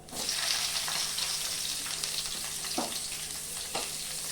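Onions frying in white oil for a curry masala, a steady close sizzle with broad hiss throughout and a couple of brief stirring scrapes, no talking.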